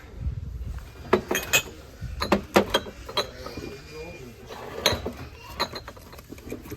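Ceramic and gold plastic cups handled on a store shelf, with scattered clinks, knocks and small creaks at close range, under intermittent talking.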